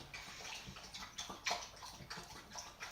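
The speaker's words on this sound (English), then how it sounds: "That is my dog drinking water." Watson the dog lapping water from a bowl, quick wet slurping laps in an irregular rhythm, faint and close, with no talk.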